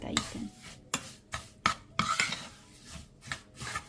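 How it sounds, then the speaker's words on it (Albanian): Kadaifi and pistachio cream are stirred in a hot pan, a series of quick, separate scraping strokes at an uneven rhythm, heard close up with a faint sizzle underneath. "përzihen derisa kadaifi dhe kremi i fëstëkut të bëhet gati"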